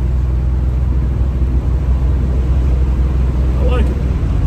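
Buick Grand National running smoothly while driving, a steady loud low engine rumble and road noise from inside the car, alone with no talk.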